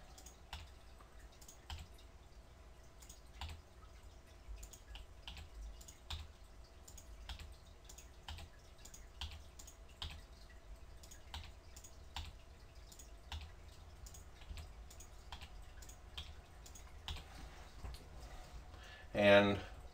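Computer keyboard and mouse clicks from editing work in CorelDraw, a steady run of light, sharp taps and clicks spread across the whole stretch at an even pace, with faint room hum beneath and a slightly louder burst near the end.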